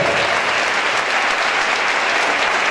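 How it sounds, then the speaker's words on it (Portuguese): Steady, dense applause from a crowd at a gospel church service in Belém, loud and continuous throughout with no voices standing out. "Vamos aplaudir ao nome de Jesus."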